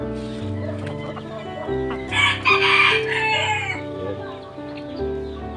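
A rooster crows loudly and close, one long drawn-out call rising in the middle, with steady background noise around it.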